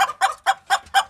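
Chickens at a pet bird farm cluck in a quick series of about five or six sharp, close calls, evenly spaced with brief gaps, heard alone.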